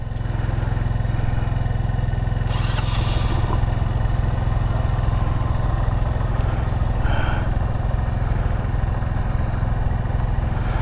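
A Honda Monkey mini motorcycle engine runs steadily at close range throughout as a first-time rider learns to ride it, with a constant loud low drone and small variations in throttle.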